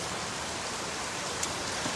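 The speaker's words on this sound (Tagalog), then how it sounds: "kita ninyo, ganun ang ulan" Heavy typhoon rain pours during super typhoon Karding, a dense, steady roaring hiss that stays constant throughout, close and loud with no voices.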